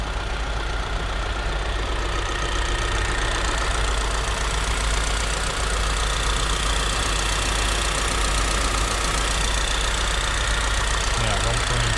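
Kia Sportage 1.6 T-GDI AWD turbo petrol engine, 180 HP, idles with a steady, loud, even drone. The running noise holds unbroken throughout, and a voice is heard over it.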